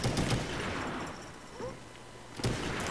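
Gunfire from a Python revolver in a first-person shooter game crackles in a few sharp, distant-sounding bursts, one near the start and another near the end, with quieter game noise in between.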